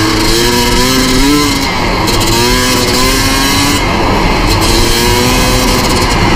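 A rebuilt Honda CR250 two-stroke motorcycle engine revs loudly and steadily up close, its pitch rising and falling in a few surges with no talking.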